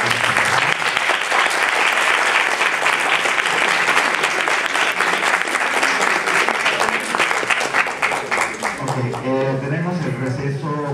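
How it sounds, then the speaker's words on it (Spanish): Loud, sustained applause from an audience at a talk on drugs and drug trafficking, dense clapping filling most of the clip before fading as a speaker's voice comes in near the end. "Un aplauso"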